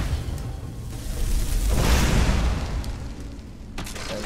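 A fire spell in Skyrim setting a target alight, heard as a swelling whoosh and rumbling burst of flame that peaks and then fades, with no talk over it.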